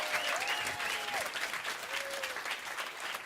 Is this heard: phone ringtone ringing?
no